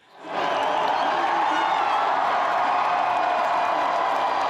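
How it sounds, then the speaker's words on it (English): A crowd cheers loudly at a Winnipeg Jets playoff hockey game, a dense sustained roar of voices and whoops that swells in quickly and holds steady. "hear some of the cheering from last night"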